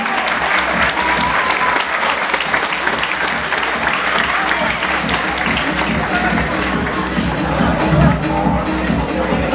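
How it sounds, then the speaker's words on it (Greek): Sustained crowd applause fills a Thai boxing event hall, dense clapping and cheering holding steady and loud throughout with a busy murmur of voices underneath. "Το θερμό σας χειροκρότημα."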